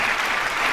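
A short burst of dense clapping from a live audience, loud and close, with no voices over it.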